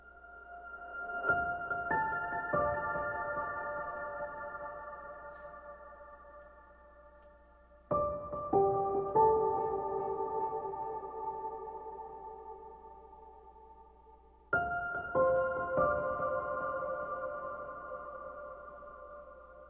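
A reversed piano key sample climbing into the high keys: three separate bursts of stacked, ringing tones arrive about seven seconds apart, each fading slowly, heard alone and clearly.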